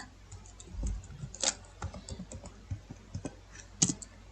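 Typing on a computer keyboard: irregular, fairly quiet clicks and taps in uneven bursts, close by and heard on their own without any voice.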